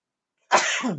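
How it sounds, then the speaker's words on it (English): A single sharp sneeze bursts out after a moment of silence, loud and close, with a breathy tail that fades quickly. "There's usually 2 or 3 when I sneeze."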